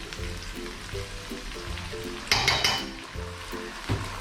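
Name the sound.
frying chili bean paste in oil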